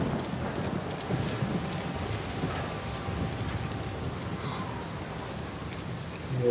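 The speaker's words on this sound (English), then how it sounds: "look at this raining effect, guys. It's so like, real." Steady hiss of rain falling with a low, rolling rumble of thunder underneath, continuous and moderately quiet, in the video game Uncharted 4.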